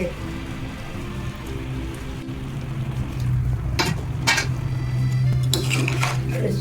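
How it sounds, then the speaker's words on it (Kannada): Mangalore-style crab masala sizzles in a pan, a steady frying hiss joined in the second half by sharp clinks of a metal spoon scraping and stirring. "ಏಡಿ ಫ್ರೈ ಆಗ್ತಾ ಉಂಟು"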